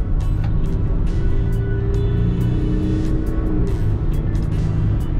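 A 2007 Volkswagen Touareg 3.0 TDI with an aftermarket exhaust drones steadily while cruising past meadows, its low engine and exhaust rumble constant and close, with no talking.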